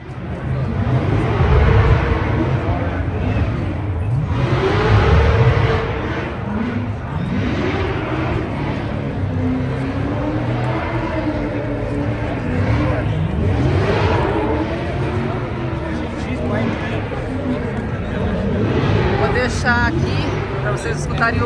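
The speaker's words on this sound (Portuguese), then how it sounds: "Vocês escutarem o som mesmo dos carros, ele tá tendo uns burnouts ali." At the 2021 SEMA Show in Las Vegas, a custom car revs and does burnouts, its engine pitch rising and falling repeatedly, with crowd noise and a person talking throughout.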